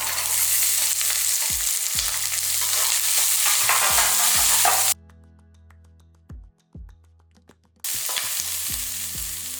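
Small shallots, about 125 g, hiss and crackle loudly in hot oil with coriander stems and curry leaves while a spoon stirs and scrapes, for a mutton gravy. The sizzle cuts out briefly midway and then resumes, with no talking.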